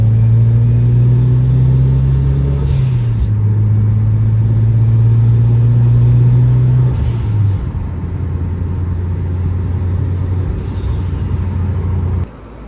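Mitsubishi EVO X running with a new turbo, its engine droning loud and close, revs holding then dropping twice with turbo whooshes at each change, settling to a steady idle.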